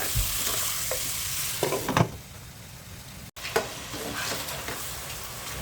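Steady sizzling and bubbling from a pot of chicken tinola soup with ginger boiling on the stove, with a few soft stirring clinks and scrapes, close by and without speech.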